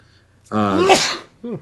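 A single sharp human sneeze, close and fairly loud, followed by a brief soft vocal sound.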